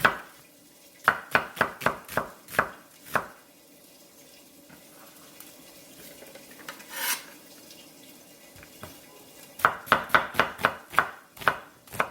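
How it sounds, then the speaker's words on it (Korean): A knife chops through an onion on a cutting board in quick bursts of sharp taps, several rapid strokes, a pause with faint rustling, then another fast run of chops, close and crisp with no talk. "양파 한 개는 이렇게 썰어주세요."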